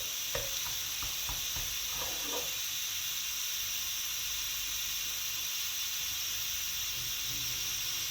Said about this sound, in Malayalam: ഇനി നമുക്കിതിനകത്തോട്ട് 1 കപ്പ് പാലും കൂടെ ചേർത്ത് കൊടുക്കാം